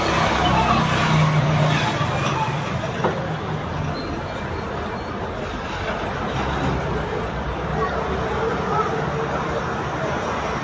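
Continuous outdoor ambience on a terrace, passing traffic and distant chatter filling the background, a steady low rumble with no pauses.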